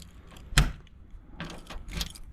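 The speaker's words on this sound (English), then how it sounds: "Trunk opens," Trunk of a diesel Oldsmobile Regency being unlocked with a GM round key and opened, heard as a sharp metallic clack followed by rattling and clunking of the lid, close and fairly quiet with no talking.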